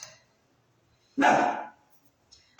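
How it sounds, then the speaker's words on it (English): A single loud dog bark, close by, followed by a brief quieter yip near the end; otherwise quiet. "It's the dog."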